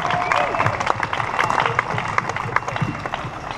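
Outdoors at Magic Kingdom's flag retreat ceremony, a crowd applauds a band with scattered clapping and some cheering, mixed with voices and bustle in the open air.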